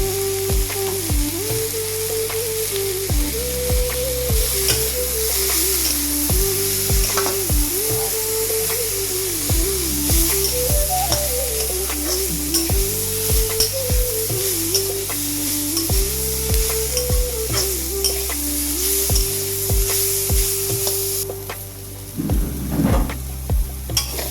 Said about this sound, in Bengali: সবজি ভাজাতে হলুদ গুঁড়ো দিয়ে দিচ্ছি